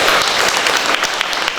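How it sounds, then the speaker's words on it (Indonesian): An audience at a martial arts (pencak silat) officials' inauguration in Tegal claps loudly and steadily, a dense wash of hands filling the whole short stretch without pause. "Tepuk tangannya buat Mbak Della"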